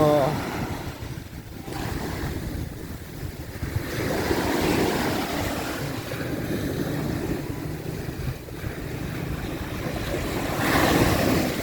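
Surf washing ashore at Jomtien Beach in Thailand, a steady broadband wash with wind buffeting the microphone, swelling louder toward the end, with faint voices in the background.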